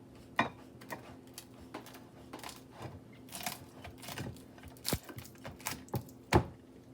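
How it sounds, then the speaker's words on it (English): A knife cuts warm matzah into pieces on a kitchen surface, making faint, irregular crisp cracks and clicks that come up close and quiet, with no one talking. "I'm going to cut my matzah into pieces."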